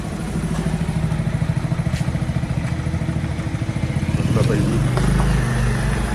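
A motorcycle engine putters steadily with a rapid low thrum, revving slightly louder near the end.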